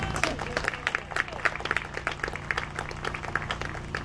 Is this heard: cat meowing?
no